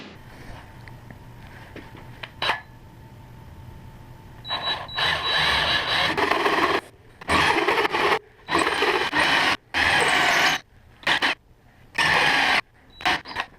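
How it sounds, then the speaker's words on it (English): A drill fitted with a two-inch hole saw bores through a piece of wood, running in several loud bursts separated by short pauses, with quieter handling noise before the first cut. "Two-inch hole saw. And we're just going to cut till we go all the way through."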